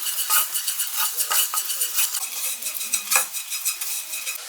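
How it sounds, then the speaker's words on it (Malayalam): Spice powders roasting in a pan over a low flame for a fish egg thoran are stirred with a utensil, producing repeated scraping and rasping strokes and a soft sizzle, close up, with no voices. "ഒന്ന് മൂത്ത് വന്നോടം വരെ ലോ ഫ്ലെയിമിലിട്ടിട്ട് കുറച്ച് നേരം ഒന്ന് ഇളക്കി കൊടുക്കുകയാണെങ്കിൽ"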